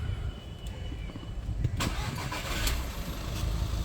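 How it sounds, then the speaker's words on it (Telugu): Starter cranking catches on a single try as a 2013 Volkswagen Vento Highline TDI diesel fires up, then settles into a steady, close, mid-loud rumbling idle. "ఒకసారి ఇంజన్ స్టార్ట్ చేద్దాం."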